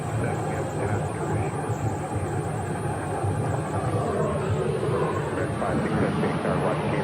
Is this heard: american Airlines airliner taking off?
yes